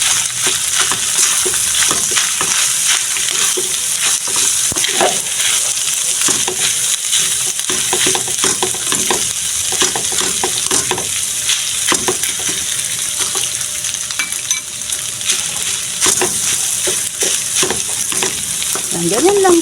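Rice frying and being stirred in a pan of oil, a steady loud sizzle with repeated scraping stirs throughout, no talk.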